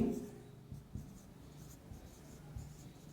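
Someone writes on a board during a structural engineering lecture, producing soft scratchy strokes and light taps at an irregular pace, faint and close, with a little low room noise.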